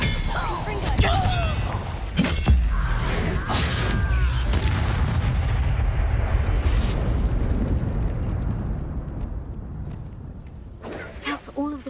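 Fiery magic bursts from the Incendio spell strike wooden crates of Chinese chomping cabbages in a Harry Potter video game, giving loud booming whooshes and crackling impacts in a sustained dense roar, with a voice speaking over them.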